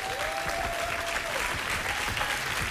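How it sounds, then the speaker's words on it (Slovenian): A studio audience on a Slovenian TV show applauds for Zvezdana Mlakar, a steady, dense wash of clapping from many hands that carries on without a break. "In še enkrat je mogoče primerno, da zaploskati Zvezdani Mlakar."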